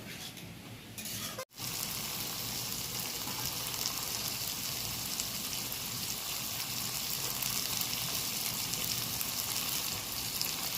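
Potatoes frying in a pan with paneer spices give a loud hiss and sizzle when water is poured in. A brief break comes first, then a steady, intense bubbling sizzle continues unbroken.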